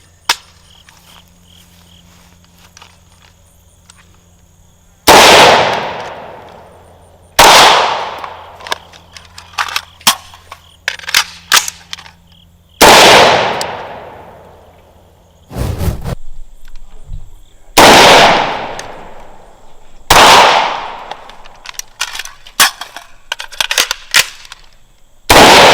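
Loud gunshots ring out in a shooting drill, a rifle shot followed by pistol fire, with five or six sharp reports spaced several seconds apart, each trailing a brief echo, plus quieter handling clatter between them.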